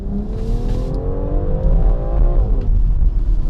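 A BMW X3 M crossover accelerating hard, its engine note rising steadily in pitch as it pulls through the revs, loud and close with a continuous mechanical roar.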